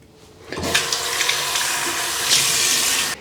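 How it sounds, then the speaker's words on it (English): Cold water gushes steadily from a bathroom tap as someone rinses their face after shaving, a continuous close splashing rush with no voices. "You want to wash with cold water to close down the pores again and avoid any"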